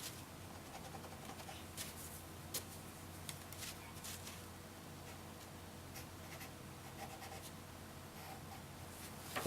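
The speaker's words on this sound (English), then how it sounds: "So I can write that in now." Pen or pencil writing notes by hand on paper, a quiet continuous scratching with small taps and rustles, close and steady throughout with no talking.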